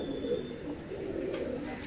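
Low, murmuring coos from Rampuri pigeons in a loft, faint and steady against background hiss, with a brief high tone early on.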